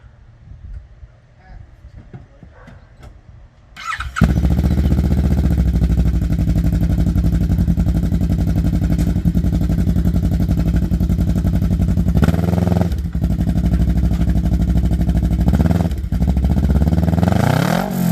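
A loud 2020 Kawasaki KRX 1000 UTV engine with a Trinity Stage 5 aftermarket exhaust barks to life after a few seconds of quieter knocking, then revs hard and drones continuously with brief dips in throttle.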